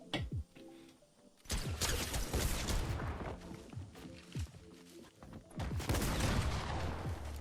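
A Mythic AK in the video game Fortnite fires in dense, sustained bursts, loud and continuous, with overlapping impact and structure-hit crashes and no gaps.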